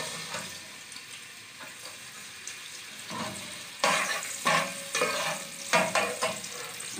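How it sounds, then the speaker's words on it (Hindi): Garlic frying in about five to six tablespoons of oil in a pan for egg fried rice, a quiet steady sizzle broken by louder stirring and scraping bursts in the second half, with no talk. "मैं ये लहसुन डाल रही हूँ।"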